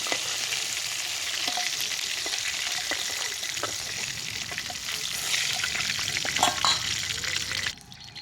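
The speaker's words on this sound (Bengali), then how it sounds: "এখন আমি এখানে সবগুলো সবজি তেলের মধ্যে হালকা ভেজে নেব।" Potatoes, carrots and vegetable stems fry in hot oil with a busy crackling sizzle, interrupted by stirring scrapes and clinks, before cutting out abruptly near the end.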